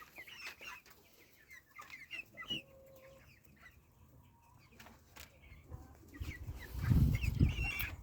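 Two-month-old chicks cluck in short, scattered bursts close by, with a louder flurry of movement and low rumbling near the end.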